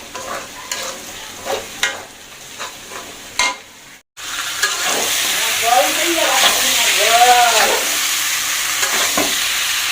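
Bengali jhal fry cooks in a hot pan at home: sparse taps and clinks first, then after a brief gap a loud, continuous close sizzle with stirring scrapes and faint squeaky tones.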